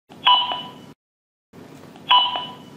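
CCTV camera in reset state, emitting two identical short electronic chime-like beeps separated by a brief silence, close and clear with no talking.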